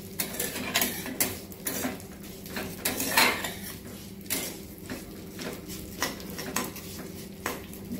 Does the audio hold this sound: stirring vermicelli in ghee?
yes